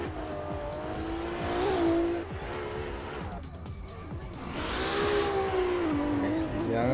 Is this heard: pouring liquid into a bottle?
no